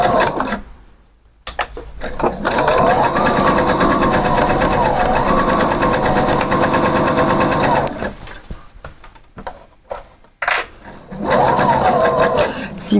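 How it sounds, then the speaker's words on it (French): A home sewing machine runs steadily, stitching the seam of a skirt from the bottom edge upward in long continuous bursts with brief pauses between them. Someone speaks over parts of the stitching. "Allez, on y va, on va coudre."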